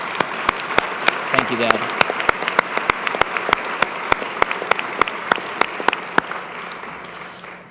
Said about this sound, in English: Let's have a round of applause for tonight's guest